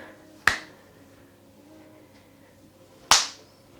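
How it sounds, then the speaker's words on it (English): Two sharp, crisp hand claps made above the crown of the head during a Dru Yoga energy block release sequence, spaced a few seconds apart in a quiet room, each ringing briefly before fading. "a little clap above the crown"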